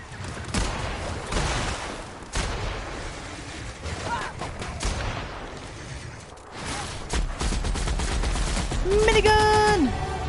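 A minigun fires in The Outer Worlds: dense, rapid bursts of gunfire come in clustered volleys over busy combat noise, with a rising whine near the end.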